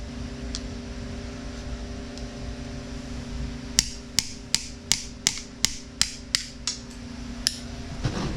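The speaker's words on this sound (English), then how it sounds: "we're going to straighten out this cotter key" Sharp metallic taps on a cotter pin being straightened at a racecar front wheel hub, about a dozen quick evenly spaced clicks close by, over a steady low shop hum.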